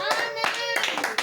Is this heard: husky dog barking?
no